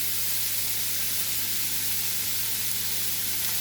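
Four chopped medium onions and three garlic cloves hit a little hot oil in a pot for tomato bredie, giving a steady, even sizzle and hiss that holds without a break.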